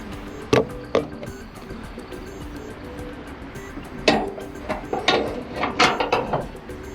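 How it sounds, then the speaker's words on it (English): On a 2020 Peugeot, the hood release lever is worked and the bonnet lifted, giving a couple of sharp plastic clicks, then a pause, then a cluster of clunks and rattles as the hood rises. "Push the lever left and now you can lift up the hood."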